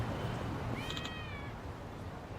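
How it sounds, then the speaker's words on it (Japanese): A cat in the game Yakuza: Like a Dragon gives a single drawn-out meow, fairly clear over a steady low background hum, with no talking. "猫の声はもう聞き逃せられないよ。"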